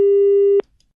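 A telephone busy tone after a caller hung up: a single loud, steady pure beep lasting just over half a second, then abrupt silence.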